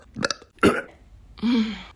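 A woman lets out several short, close burps in quick succession, ending with a longer, drawn-out belch.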